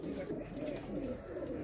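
Breeder pigeons in a Faisalabad loft coo softly with repeated low rolling calls, somewhat faint, and a voice can be heard in the background.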